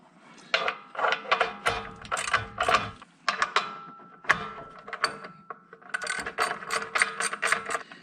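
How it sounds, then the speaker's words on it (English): A torque wrench ratchets while tightening ARP bolts during a clutch installation on a car, set to 45. Quick bursts of metallic clicking come in several close, nearby runs with short pauses between them, and no voices. "So we're gonna do ARP's recommended 45. I'll torque that right now."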